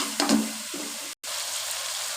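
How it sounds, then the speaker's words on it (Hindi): Water poured into a pan of sizzling masala for a mixed vegetable salan, a short splash near the start giving way to steady, close frying hiss that runs on after a brief dropout. "ये भी अब मैं इसमें थोड़ा सा पानी ऐड करूँगी"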